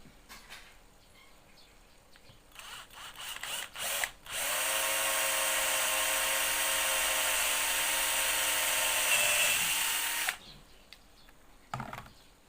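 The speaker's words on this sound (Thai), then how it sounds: "ผมจะเจาะแบบนี้นะครับ" A small drill bores a centring hole in a metal earring hoop, whining steadily for about six seconds at close range, with a few short taps and handling noises before and after.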